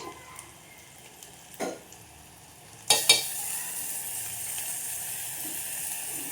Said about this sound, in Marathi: आता कांदा फ्राय झाले, त्याच्यामध्ये आपण वाटण टाकू